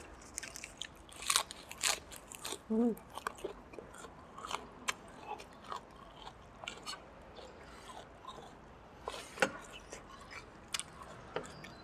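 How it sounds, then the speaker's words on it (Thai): Crisp potato crackers crunched between bites during a meal of small-noodle pork nam tok soup, giving scattered close, sharp crackling bursts with soft chewing and no talk. "แคบมันฝรั่ง"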